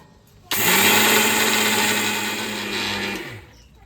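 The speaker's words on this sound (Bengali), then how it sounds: "মিক্সচারেই করবো আজকে" A mixer grinder kicks on abruptly and whirs loudly at a steady high pitch for about three seconds while grinding rice for pitha, then winds down and stops.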